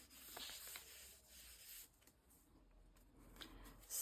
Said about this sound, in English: I'm just gently rubbing over the pages